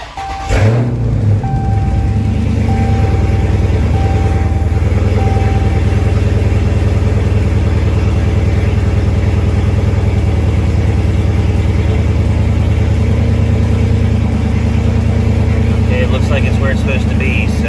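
A Dodge Charger Scat Pack engine cranks and fires within the first second, then settles into a steady, loud, close rumbling idle that continues evenly, with no talking over it.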